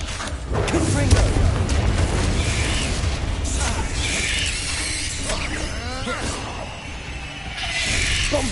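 Explosions from the Confringo fire spell in Hogwarts Legacy, loud booming bursts mixed with clanking battle effects and whooshes, with a voice calling out over the din.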